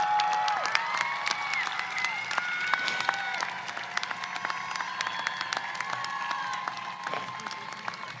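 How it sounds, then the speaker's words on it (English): A graduation crowd for the Monrovia Class of 2025 applauds steadily, with even clapping and a few brief cheers or whistles, held at moderate distance for about eight seconds. "Class of 2025, stand up and applaud these people who just loved you."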